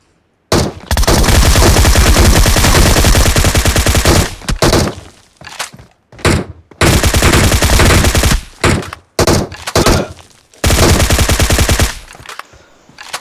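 Automatic gunfire rattles in PUBG Mobile, loud sustained bursts of rapid shots broken by short pauses across about thirteen seconds.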